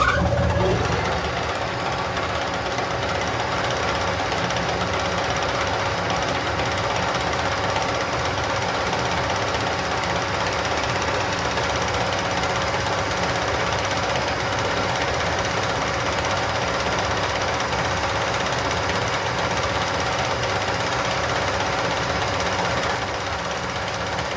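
A lathe drills a centre hole into metal with a steady, grinding mechanical whir and chatter, running continuously at close range.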